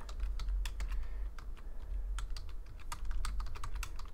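Fingers tap on a computer keyboard in quick, uneven bursts of crisp clicks, close up over a low background hum, with no talking.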